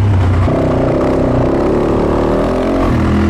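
A Fantic 450 Rally dirt motorcycle's single engine revving hard while being ridden off-road, loud and close, with the pitch climbing and holding in a continuous throaty roar.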